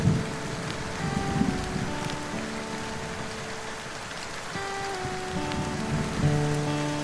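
Steady rain patters on tarps and ground in a mountain valley wilderness during a thunderstorm, a dense continuous hiss with occasional louder drops and faint low rumbles.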